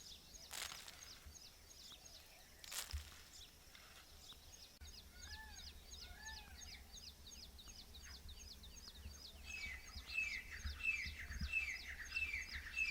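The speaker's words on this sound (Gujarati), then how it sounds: "હવે કબૂતર આપણને જો થોડાક કોલી થયું એટલે અહીંયા બોલાવા આવ્યા" Outdoor village birdsong with repeated chirps and a couple of soft pigeon cooing calls, fairly distant and moderate, over a low steady background rumble and occasional knocks.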